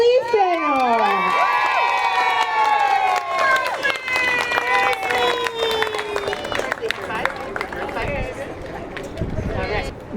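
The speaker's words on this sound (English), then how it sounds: "they cheer him on, telling him, you can do it, you can do it" Preschool children at a graduation ceremony cheer a classmate on as he climbs the stairs, a loud, continuous chorus of high excited shouts and chants with scattered clapping and adult voices mixed in.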